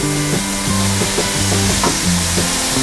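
Pork with bitter gourd and shiitake mushrooms stir-fries in a hot pan, a loud, constant sizzle broken by repeated rhythmic scrapes and knocks of a spatula tossing the food.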